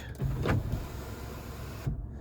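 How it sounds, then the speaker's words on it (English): Power sunroof on a 2022 Ford Expedition opening, a steady electric motor whir that starts with a soft clunk and runs for about two seconds before stopping with a small thump. "And this one has the sunroof and it looks like the moonroof as well. So let's toggle that real quick."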